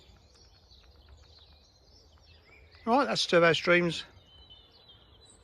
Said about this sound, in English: All I can hear is bird song.